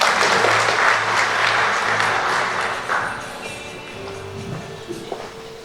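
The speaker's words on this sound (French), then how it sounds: "Vos applaudissements, mesdames et messieurs." An audience at an academic conference on finance and modern technology in Fes, Morocco, claps in sustained applause that gradually fades over several seconds.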